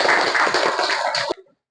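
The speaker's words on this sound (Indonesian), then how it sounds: "Tepuk tangan untuk Saudari Nai." Classroom students clapping together for a classmate, a dense burst of many hands that stops abruptly near the end with a brief fade.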